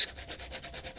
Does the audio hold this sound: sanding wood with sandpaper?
yes